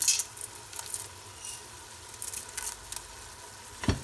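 Harira soup ingredients, including strawberries, being mixed together in a pot, giving soft intermittent stirring and wet squishing strokes, close and moderately loud with no talk.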